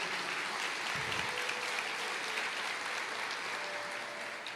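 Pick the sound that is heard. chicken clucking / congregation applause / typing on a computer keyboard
congregation applause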